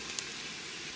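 Garlic browns on low heat in a pan with a soft, steady sizzle, faint and continuous with one small pop near the start.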